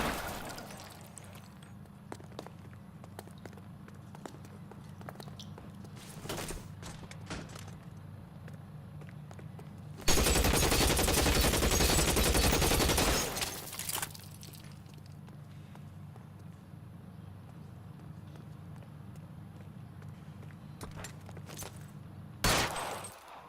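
Gunfire in the video game L.A. Noire, a loud sustained burst of rapid shots lasting about three seconds, with a few isolated sharp cracks before and after against a quiet background hum.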